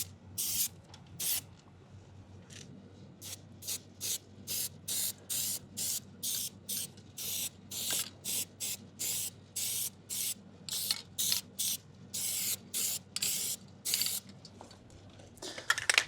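Plasti-Dip coating sprayed from an aerosol can onto van rims, heard as a long run of short, sharp hissing bursts in quick succession, each lasting under a second, over a low steady background hum.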